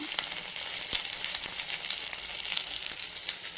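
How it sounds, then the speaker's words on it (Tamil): Mustard seeds, curry leaves, green chilli and onion sizzle steadily in hot oil while being tempered for okra sambar, a continuous close hiss with faint crackles and occasional stirring clicks, no talking. "கடுகு, கருவேப்பிலை, பச்சை மிளகாய், வெங்காயம் எல்லாமே போட்டு தாளிச்சுட்டு நல்லா வதங்கினதுக்கப்புறம்"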